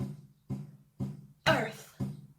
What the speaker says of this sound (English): I'm going to tap my chest with my hand.